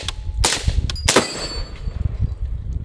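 A suppressed 5.56 rifle, a non-AR design fitted with an EOTech sight, fires two sharp, close shots about half a second apart on an outdoor dirt range. Fainter clanks and echoes trail off afterward.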